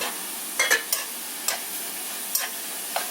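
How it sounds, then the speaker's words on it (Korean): Aged kimchi and somen noodles being stir-fried in a pan, a steady soft sizzle with a few sharp scrapes of a utensil stirring, close and fairly quiet, no talking. "이게 좀 소면을 볶을 거라서 물이 좀 들어가야 되지 않나?"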